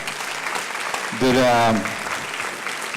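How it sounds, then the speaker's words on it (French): Applause at a talk about a champagne house runs as a diffuse background patter while a voice briefly speaks over it midway. "Je pense qu'on peut déjà vous applaudir et vous remercier"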